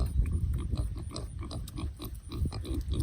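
Pigs grunt and snuffle in a muddy pen after heavy rain, close and continuous with irregular low grunts and squelching.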